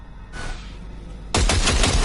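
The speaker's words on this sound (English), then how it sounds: "Fire a short burst into it." Short burst of automatic gunfire in Cyberpunk 2077: a faint whoosh first, then a loud, close, rapid volley of shots lasting under a second and ringing on to the end.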